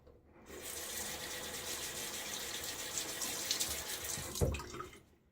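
Water runs from a tap into a shaving bowl to thin a Williams shaving soap lather, a steady close gushing stream that runs about four seconds, then a brief splash as it stops.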